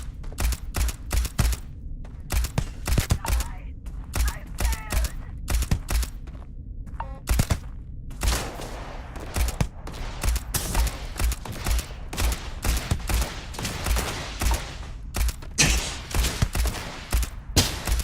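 Rapid gunfire from a firefight in the space game Starfield, dense bursts of sharp shots cracking almost continuously at close range, with no talk.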